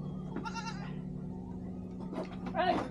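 A goat about to be bought gives a couple of short, fairly close bleats, one early and a stronger one at the end, over a steady low hum.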